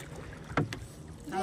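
A paddle dips into the water beside a wooden rowboat off a beach, two short splashing strokes close by, set against light wind and distant voices.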